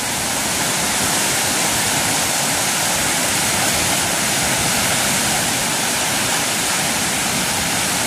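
Floodwater rushes during a storm, a loud, unbroken roar of churning water that stays constant and dense throughout, with no voices.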